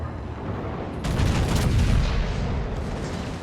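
A warship's main-gun salvo in World of Warships lands as one sudden heavy boom. A deep, rumbling roar follows and fills the remaining seconds at steady loudness, with no voices.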